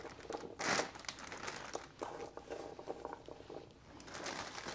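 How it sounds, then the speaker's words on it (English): A gallon Ziploc plastic bag being handled close by, soft crinkles and rustles coming in brief bursts over several seconds, quiet, with no voices. "I'm going to put all these parts into this gallon Ziploc bag"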